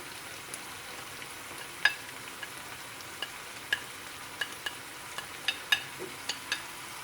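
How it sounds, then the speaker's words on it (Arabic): Onion and chicken fajita sauté in a pan with a soft, even sizzle beneath repeated sharp taps and scrapes of a spatula, close but fairly quiet, with no one speaking. "بعد ما حمست البصل ويا الفاهيتا الدجاج"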